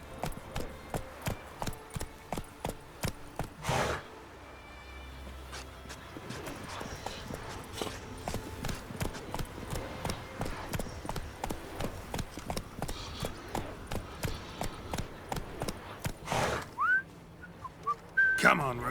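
Roach, the horse in The Witcher 3, trots with even, regular hoof clops close by, keeping a steady beat throughout; a whistle and a brief whinny cut in near the start and end.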